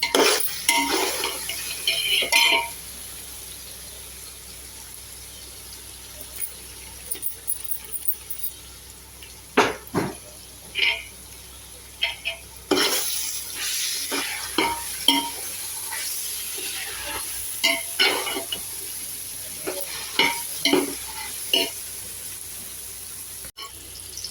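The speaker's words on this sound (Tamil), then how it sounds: "வதங்கினதுக்கப்புறம் அந்த இஞ்சி பூண்டை போட்டுக்கணும்" A spoon clanks and scrapes in a pot as crushed ginger and garlic are stirred for a large batch of tomato rice. Irregular metallic knocks and clatter, some loud and close, come with a little running water in between.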